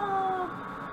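A single cat meow in The Sims video game, a short tonal cry, clear and fairly close, fading into quiet game ambience.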